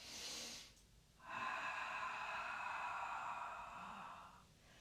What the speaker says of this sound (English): and you sniff it hard, and that will suck air in through the nose very quickly